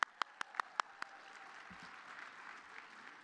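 A short burst of hand claps at a graduation ceremony, about six sharp claps in quick succession, then fading into a steady murmur of room noise.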